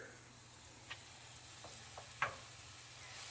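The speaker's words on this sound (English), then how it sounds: "Put a little bit of butter there. And I got a hot skillet here." A buttered hot dog bun toasts in a hot skillet for lobster rolls, giving a quiet, steady sizzle with a few faint clicks and a brief louder tap near the end.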